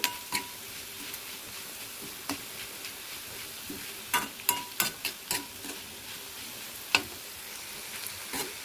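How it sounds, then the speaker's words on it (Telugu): Small bitter gourd pieces are stir-fried with turmeric, a spatula scraping and clacking against the pan in irregular bursts over a soft, continuous sizzle, close by and without speech. "నేను మంచిగా అన్నీ కలిసేలా కలుపుతూ వేయించుకుంటున్నాను"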